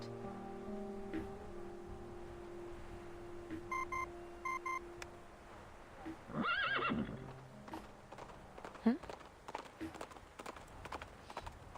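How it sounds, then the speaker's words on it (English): Horse in the Reverse: 1999 game startled by electronic communicator beeps, giving one loud whinny then galloping hoofbeats fading into the distance, set against quiet ambience. "The communicator's noise startles the kneeling horse. It lifts its head and bolts into the distance."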